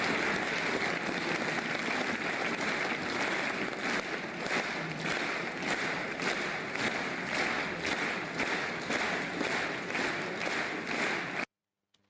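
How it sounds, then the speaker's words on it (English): Recorded audience clapping played back through a hall's speakers during a physics workshop talk, a dense steady applause with a faintly emerging beat that runs for about eleven seconds and then cuts off abruptly. "to let the people clap and synchronize"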